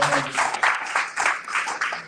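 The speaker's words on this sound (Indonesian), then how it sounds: "Mereka tepuk tangan untuk Tuhan." A church congregation claps for God during a sermon, a burst of many hands with a loose rhythmic pulse, close and fairly loud, with voices mixed in.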